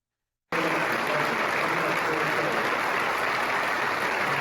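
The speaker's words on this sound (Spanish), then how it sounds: "Con una extensa y sentida oleada de aplausos fue recibido el papá de Miguel Uribe" Applause in the Colombian Congress for the father of Miguel Uribe, starting abruptly after a moment of silence and continuing as a loud, dense, sustained ovation.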